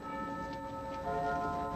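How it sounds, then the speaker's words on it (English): A 100-year-old clock bell ringing in a 1951 film scene, a sustained resonant tone with lingering overtones that swells slightly partway through, heard alone without talk. "That bell is 100 years old. And 4 minutes fast."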